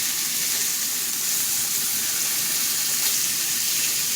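Browning pieces of fatty meat fry in a hot pan, giving a steady, close hiss of sizzling fat with no pauses, and no voices.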